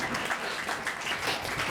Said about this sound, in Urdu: زوردار تالی بجائے، زور سے۔